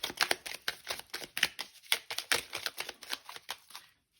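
Oracle cards are shuffled by hand in a fast run of crisp, rhythmic riffling snaps and flutters, close and fairly loud, with no talking.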